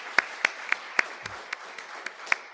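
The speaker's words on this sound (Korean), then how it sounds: "이 시간 우리 박스태호 목자님과 또 조이스라 목자님 정년 기념 겸 꽃을 주신 것을 감사 박수 한번 치도록 하겠습니다." A church congregation claps in thanks, giving a handful of separate, sparse hand claps spaced unevenly over a couple of seconds, moderately loud in a reverberant hall.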